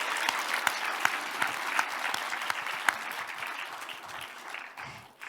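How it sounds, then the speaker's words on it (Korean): A seated audience at a Korean spiritual teaching session claps warmly throughout, a dense even patter with a few sharper individual claps, tapering off near the end. "박수."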